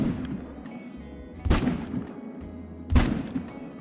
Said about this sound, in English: Definitely got him on the second shot though, so that is all three of those bucks down